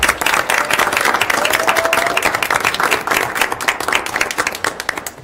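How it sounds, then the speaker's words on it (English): Applause from the audience at a school board of education meeting, a dense, loud burst of many hands clapping that holds steady and then thins toward the end, with little talk. "Round of applause for her once again"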